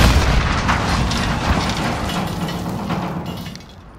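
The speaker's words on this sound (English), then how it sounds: "Grenade out!" In Call of Duty Modern Warfare combat, a grenade explosion lands with a heavy boom and crackling debris, followed by scattered gunfire that slowly fades into quieter background noise.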